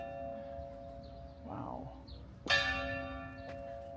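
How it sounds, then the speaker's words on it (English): A church bell rings at the hilltop Citadel on Gozo, Malta, with one loud struck peal whose tone lingers and a softer second strike after it, heard over outdoor ambience. A voice gives a short exclamation. "The bell's ringing."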